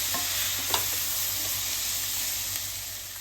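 Tomato and bread upma frying in a pan, a steady close sizzle with a few faint clinks of stirring, no voices.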